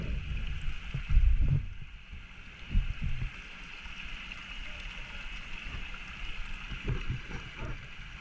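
Water from an overflowing river rushes and gurgles along a flooded street, a continuous moderate flow with a few louder splashing bursts early on and near the end.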